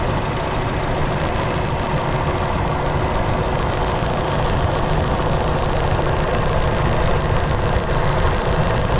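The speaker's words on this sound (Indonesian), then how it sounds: "Ini mesin sudah saya hidupkan teman-teman" A car engine idles steadily with a mechanical rumble that stays level and close throughout, while its vacuum-advance distributor and octane selector are being checked for a fuel-consumption fault.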